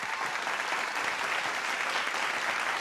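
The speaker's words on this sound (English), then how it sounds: "And you know who else is looking absolutely gorgeous this evening? Our ladies. Can we give them a round of applause," An audience applauds steadily for pageant contestants at the Miss Earth Australia 2018 event, a dense, even wash of clapping from a large crowd with no pauses.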